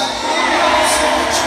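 A packed concert crowd at Walnut Creek Amphitheater in Raleigh, North Carolina, roars during a live show, a loud, steady wall of cheering and shouting voices that fills the whole stretch without a break.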